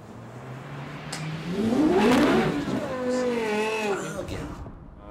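A Lexus super sports car's engine revs hard, climbing and falling in pitch over a few seconds, then settling into a steady drone. It is loud and close, with a pass of rising revs near the middle.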